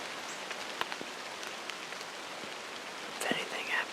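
Steady rain falls on a hunting stand during an opening-weekend bow hunt, a soft continuous hiss of drops on surfaces with a few sharper taps, and a brief faint voice near the end.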